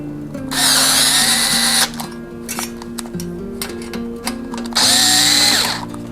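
A power drill whirs loudly in two bursts while driving screws, with quieter tool clinks and handling noises in between, during fitting of bikepacking accessories to a bicycle.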